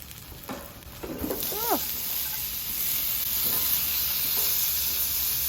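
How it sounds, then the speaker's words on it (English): Carrots, apples, onions and peppers sizzle on a flat top grill alongside cabbage for a sausage stir fry, with a steady close hiss and a few scraping clatters of a utensil near the start. "Next thing we're gonna put down: carrots, apples, onions, and peppers."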